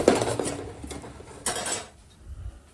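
Boiled masoor lentils being stirred with turmeric in a pot, a spoon scraping and clinking against the metal in a few short bursts, close, then fading to quiet.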